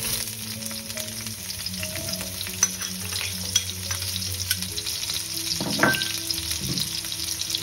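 Steady sizzling of onions frying in hot oil in a wok, a continuous crackling hiss with occasional louder spits and a brief stir.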